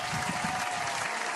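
A group of people claps steadily in a short dense burst, the applause filling the moment evenly before easing at the end, during a Marathi comedy sketch about planning a Shiv Jayanti celebration.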